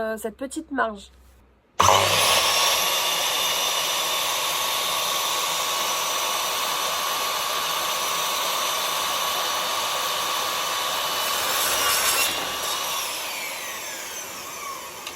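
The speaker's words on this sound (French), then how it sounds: "j'ai branché la scie à onglet à l'aspirateur pour éviter d'avoir un maximum de sciure" A loud, steady power-tool roar of a miter saw cutting wood, connected to a vacuum drawing the sawdust, sustained for many seconds after a brief moment of talk at the start.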